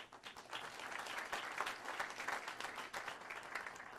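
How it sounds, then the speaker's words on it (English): Audience at the FITN Summit in New Hampshire applauds steadily throughout, a dense even wash of many hands clapping with no break. "Those applause are really for her for putting up with me for 22 years."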